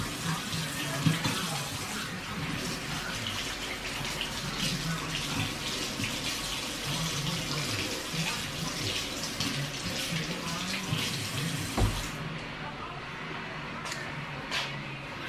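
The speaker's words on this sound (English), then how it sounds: "so you're gonna hear me washing my hands, sorry." Hands being washed under a running kitchen tap, a continuous splashing stream with rubbing and light splatter, moderately close, then the water shuts off near the end leaving a few faint clicks.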